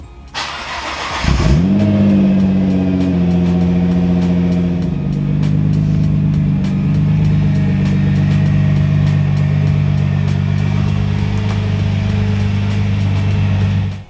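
A Nissan GT-R R35 returned to stock fires up and pulls away, its engine rising into a smooth, steady acceleration drone that stays loud and close throughout.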